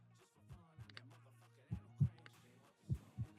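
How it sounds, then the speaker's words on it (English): A heartbeat sound effect in a horror video game, with soft low thumps arriving in doubled pairs at an uneven pace over a quiet hum, the later beats louder and nearer. "I feel like you can hear your heartbeat."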